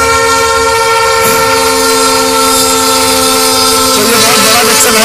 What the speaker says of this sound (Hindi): हाईवे के बगल से ट्रेन जाते हुए दिख रही होंगे आप।